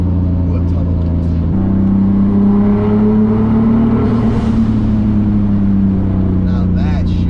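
A straight-piped, turbocharged 500 hp BMW E34 with an M50 engine drones loudly from inside the car on a road trip, with a steady low exhaust tone that steps up slightly as the car pulls along.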